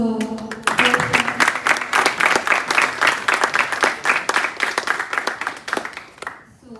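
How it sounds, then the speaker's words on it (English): A college audience at a faculty talk event breaks into loud, dense clapping after a brief voice, sustaining steady applause for several seconds before tapering off at the end. "can we have a great round of applause for"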